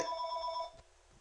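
A telephone rings in a short electronic trill that stops abruptly partway through, fairly faint against a low background hum.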